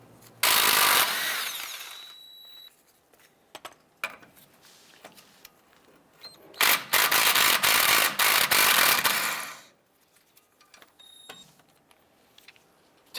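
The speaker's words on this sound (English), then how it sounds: "Using a 21mm socket, we're going to remove this bolt here and this bolt here." A 21mm socket on a ratchet and power tool loosens the brake caliper bracket bolts on a 2003-2012 Chevrolet Colorado, giving two loud bursts of rapid mechanical rattling separated by quiet clicks and handling noises.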